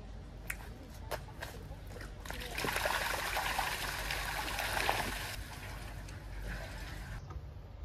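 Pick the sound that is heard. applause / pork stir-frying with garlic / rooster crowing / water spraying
water spraying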